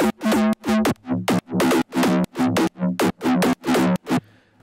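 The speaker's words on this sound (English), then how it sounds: "So the sequence at the top here is a bass patch called bop sequence, and on its own it just sounds like this." Synth bass patch called bop sequence from the Microwave Proof preset bank, a spiky syncopated sequence of short punchy notes with bright harmonics, playing alone and loud and pushing forward into each beat.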